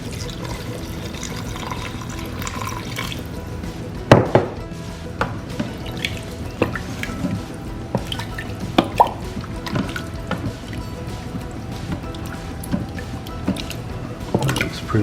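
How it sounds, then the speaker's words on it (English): Stock or water being poured into an Instant Pot over potatoes and chicken, a run of wet drips, plops and squishy splashes with a few sharper knocks, close by against a low background hum. "add potatoes and chicken to it and some stock"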